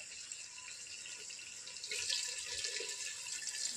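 Water pours steadily into a clay handi pot of browned chicken during cooking, a close continuous splashing stream that grows slightly fuller toward the end.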